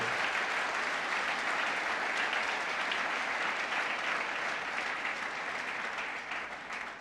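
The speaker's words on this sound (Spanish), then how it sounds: "Denle un aplauso al Señor" A church congregation applauds steadily for several seconds, a dense, loud wash of clapping that tapers slightly at the end.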